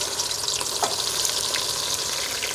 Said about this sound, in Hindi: घी जो है वो बहुत अच्छी तरह से हो गया गरम। अब हम इसमें डाल देते हैं प्याज।